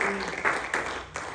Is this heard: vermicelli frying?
no